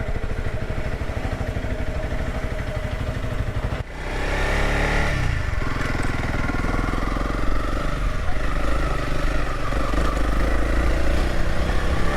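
Honda CRF300LS motorcycle riding along technical roads toward the woods, its engine droning steadily and loud up close, with a brief dip around four seconds before the pulling engine note resumes and carries on under wind noise.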